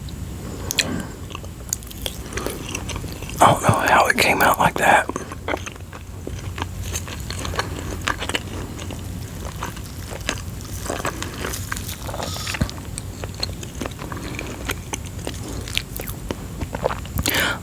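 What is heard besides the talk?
chewing mozzarella pesto chicken waffles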